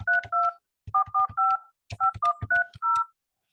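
Telephone keypad tones dialing a number to call someone back after reaching voicemail: a quick run of paired beeps in three bursts, steady and fairly close, with no voices.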